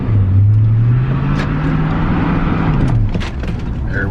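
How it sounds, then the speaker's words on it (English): A supercharged, five-speed manual-swapped Ford Crown Victoria revs its engine in a loud, close drone that rises and holds for about three seconds, with the tire skid mixed into the engine noise. "let's catch a skid real quick"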